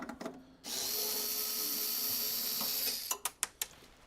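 A power screwdriver whirs for a couple of seconds while removing screws from the front panel of a Skywalker V1 coffee roaster, then a few sharp ratcheting clicks follow, close and clear in a quiet room.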